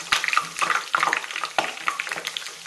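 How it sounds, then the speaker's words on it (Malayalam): Bhatura puffing in hot oil while oil is spooned over it, giving irregular bubbling, splashing crackles and quick spoon scrapes close by, with no talk. "ഒന്ന് പൊങ്ങി വരുമ്പോൾ സൈഡിൽ നിന്ന് കുറച്ച് എണ്ണ എടുത്ത് ഇങ്ങനെ ഒഴിച്ചു കൊടുക്കുക."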